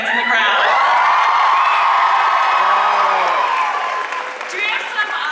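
Fan Expo Canada crowd cheering at a Stranger Things panel, a loud sustained roar of screams and whoops that fades slightly toward the end.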